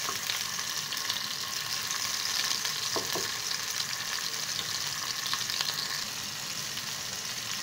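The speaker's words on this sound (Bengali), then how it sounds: "টমেটোটাকেও আমি একটু ফ্রাই করে নেব" Half a medium tomato frying in oil in a pan for a light rohu fish curry, a constant close sizzle with a couple of faint utensil taps, no voices.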